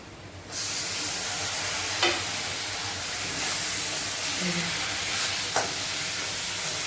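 Vegetables frying in a pan with cumin and coriander, a steady broadband sizzle running throughout with a couple of brief clinks of stirring, no voices.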